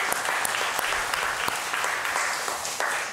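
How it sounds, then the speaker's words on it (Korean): Loud, sustained applause from a congregation at a Sunday morning church worship service, welcoming back a deacon who is recovering from illness; dense clapping runs steadily throughout with a faint voice underneath. "우리 최희성 집사님 예배 참석하셨으니까 우리 환영의 박수 한번 하도록 하겠습니다."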